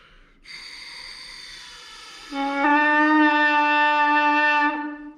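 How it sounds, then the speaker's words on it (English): A brass mouthpiece buzzed through a horn's lead pipe, starting as a thin breathy tone, then jumping to a loud, steady, harmonic-rich drone held for about two seconds. "when you put the mouthpiece into the lead pipe, it's going to do this"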